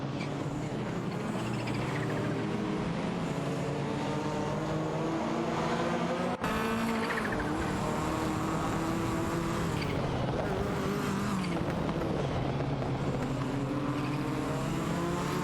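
A Ford Sierra RS 500 and a Porsche 944 Turbo race in a video game, their engines droning and revving steadily at close range, with a commentator's voice running over the engine noise.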